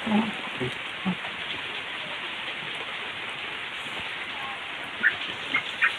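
Steady rain falls over a village in Tasikmalaya, a dense continuous hiss of drops on surfaces throughout, with a few brief louder taps and faint background sounds.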